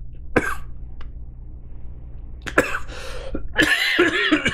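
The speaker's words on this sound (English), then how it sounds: "Read that while I cough." Someone coughs in several harsh bursts at close range, with a single cough near the start and a rougher cluster of throat-clearing coughs toward the end, no talking.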